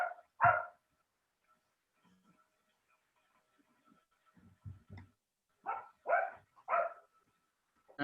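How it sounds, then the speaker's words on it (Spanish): A dog barks in the distance during an online law lecture, several sharp barks in scattered bursts, a pair at the start and a quick run of three near the end, with faint low voices between. "A ver quién calla a ese perro por ahí."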